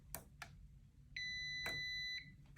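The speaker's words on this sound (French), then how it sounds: "on va venir cliquer sur le prog jusqu'à entendre un bip" Sofermi Bornéo garage door control board gives a sustained electronic beep of about a second after its prog button is pressed, quiet and close, preceded by a few faint clicks.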